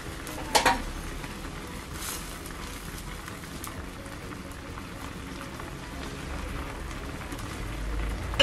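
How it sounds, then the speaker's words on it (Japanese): Steady bubbling and crackling from a pot of Spanish garlic soup on the stove, a soft continuous simmer with scattered pops, fairly quiet and close. "全体が沸騰してきたらちょっと弱火にします"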